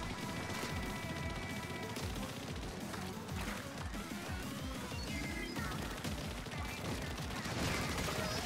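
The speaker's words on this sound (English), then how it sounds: "Booyah bomb incoming!" Booyah bomb explosion in the video game Splatoon 3, a dense burst of crashing, splatting blasts layered over busy game music and effects, sustained and loud throughout.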